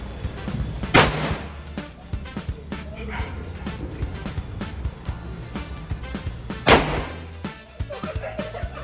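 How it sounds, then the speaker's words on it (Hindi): Two sharp, loud firecracker bangs burst out about six seconds apart during Diwali celebrations, standing out over a busy background of voices and a barking dog. "मम्मी ने एक पटाखा अपने हाथ में ही फोड़ दिया"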